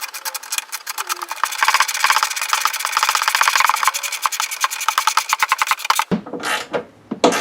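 Rapid ratcheting of a wrench tightening an air box bolt during an S&B intake install on a Ford F-150, a fast steady clicking run that stops abruptly, followed by a few softer knocks.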